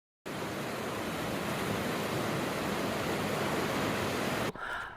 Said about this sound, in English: A little bit of the water running.